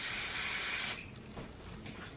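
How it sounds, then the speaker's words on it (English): Hair spray hisses in a single steady burst for about a second close by, then cuts off, leaving soft rustling of hair afterward. "So I'm going to start by adding a bit of spray,"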